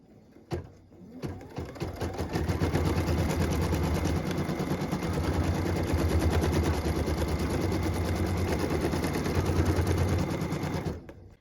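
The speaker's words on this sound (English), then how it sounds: "go ahead and do machine step 18, which is stitching the placement line for the star" An embroidery machine stitches a star placement line on a quilt block, giving a fast, loud, steady mechanical rattle with no one speaking, starting and stopping abruptly.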